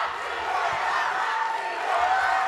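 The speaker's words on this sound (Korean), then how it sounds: "기립박수" A large studio audience cheers and roars in a steady sustained wash of crowd noise after a singer's performance on Indonesian Idol 2020, loud and continuous throughout with no distinct claps standing out.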